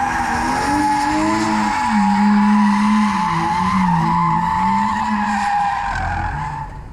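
A BMW E90 drifts with a sustained, loud tire squeal over a rising and falling engine note, the screech holding for several seconds before easing off at the end.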